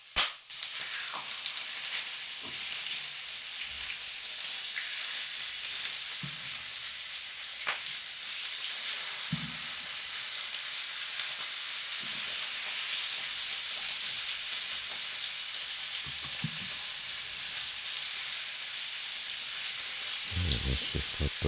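Chicken thighs searing in a hot pan with a little water, giving a steady close broadband sizzle throughout, with occasional pops and soft thumps of the pan or utensils.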